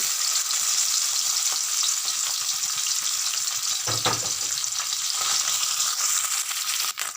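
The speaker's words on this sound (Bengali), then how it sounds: "এবার আমি মাছগুলোকে ভেজে নেব" Fish sizzling in hot mustard oil: a loud, steady frying hiss throughout, with a brief clatter partway through.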